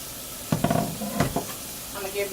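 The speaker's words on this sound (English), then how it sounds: "I'm going to give this a little stir" A spoon stirs greens and meat in a pot, giving a few scraping strokes over a soft sizzle and hiss, close and brief.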